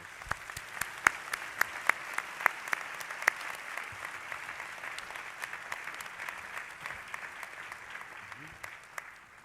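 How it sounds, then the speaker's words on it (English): A large audience at an MLK ministers' and laity forum gives the honorees sustained applause, with sharp individual claps standing out above a thick, steady roar. "Ladies and gentlemen, let us give these recipients an applause."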